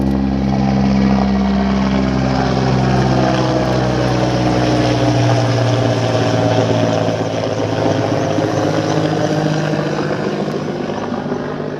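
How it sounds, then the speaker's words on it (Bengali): A large helicopter flies overhead, its loud, sustained rotor and engine drone filling the whole stretch, with the pitch slowly shifting as it passes. "আকাশ দিয়ে বড় একটা হেলিকপ্টার যাচ্ছে।"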